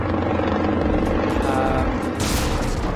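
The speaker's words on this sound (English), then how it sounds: "So there's the helicopter that we're racing." A helicopter in the PC platform game Ninja Pizza Girl drones steadily throughout, a loud continuous rotor rumble with a brief burst of brighter noise near the end.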